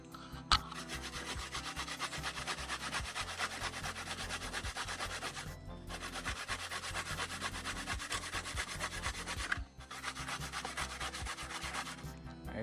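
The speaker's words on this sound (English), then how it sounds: "you see the coconut all shell out, crack up and everything. So now we're gonna pick it out and we're gonna get it grate up." Coconut flesh scraped on a grater in the Jamaican hills, a dense, continuous rasping scrape in long strokes broken by two short pauses, close and fairly loud.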